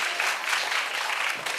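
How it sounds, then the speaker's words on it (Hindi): Dense, steady applause from an audience at a Hindi-Urdu poetry gathering, a continuous broadband clatter of many hands at moderate level filling the whole moment without a break, no voices over it. "तालियां दोनों तरफ बजाइए, इधर भी"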